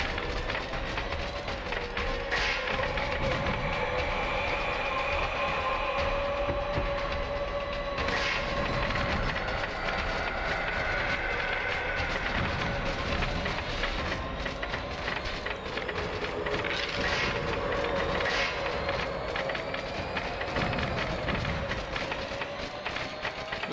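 A train rumbles along continuously in the video game Choo Choo Survivor, with a dense, steady mechanical roar and occasional thumps and impacts, all at a moderate, even level.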